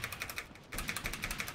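Soft, steady tapping on a computer keyboard, keys clicking in quick irregular bursts with a brief pause in the middle.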